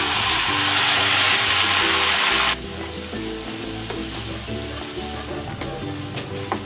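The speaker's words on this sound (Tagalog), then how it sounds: "ipiprito ko na itong tokwa" Tofu (tokwa) frying in a pan, a loud, steady sizzle that is hissier for the first couple of seconds before settling into a dense, continuous crackle with no talking.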